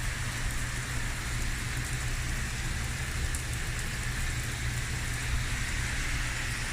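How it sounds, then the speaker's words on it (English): Steady rain falls in Nova Scotia, a constant broadband hiss of drops on surfaces with a low rumble underneath, even and unbroken throughout with no voices. "Pure rain."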